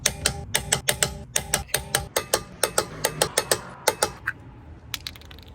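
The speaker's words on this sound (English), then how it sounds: "Here got the 21mm socket, and the torque wrench is set at 129 foot-pounds." A torque wrench with a 21mm socket ratchets lug nuts on a Tesla Model 3 wheel, a close, loud series of sharp metallic clicks in quick bursts, thinning out near the end.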